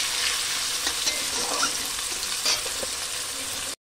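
Chicken drumsticks fry in hot oil with a steady, dense sizzle throughout and a few light stirring scrapes, and no voices.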